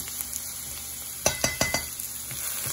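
One medium chopped onion frying in a tablespoon of olive oil, a steady close sizzle with a few sharper crackles and light clinks of stirring in the pan.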